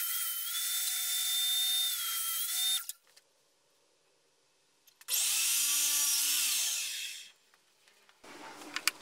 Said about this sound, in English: Therefore I want to saw these strips again, this time a little wider